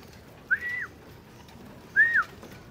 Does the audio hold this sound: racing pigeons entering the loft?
yes